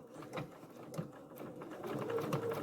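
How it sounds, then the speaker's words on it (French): Sewing machine running long basting stitches along zipper tape while installing an invisible zipper, a steady mechanical whir with soft rhythmic ticking, close and moderately quiet, with no talking. "je vais coudre mon premier ruban à gros points"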